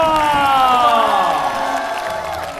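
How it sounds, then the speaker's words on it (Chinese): A stand-up comedy audience applauds and cheers comedian Yang Di after his debut set, a loud, sustained wash of clapping and whoops that fades slightly toward the end, with a host's voice over it. "咱们再次掌声送给杨迪"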